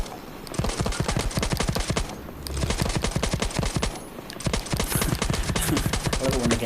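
Dense, rapid gunfire rattles through the Battlefield 1 beta Conquest match, automatic bursts with brief pauses, loud and close throughout.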